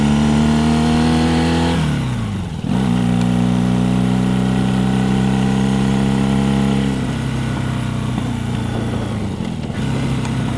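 A motorcycle engine, heard while riding to Griffith Park, hums close and loud. It revs and drops in pitch through several gear changes, with a brief dip in between and no voices over it.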